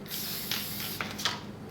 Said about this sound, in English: I'm going to take a can of fixative.